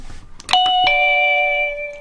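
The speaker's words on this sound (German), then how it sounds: "und schon klingelt es zweimal" A wireless doorbell set for a house door rings twice in quick succession, two bright chime tones sounding close and clear, with the second ringing on and slowly fading.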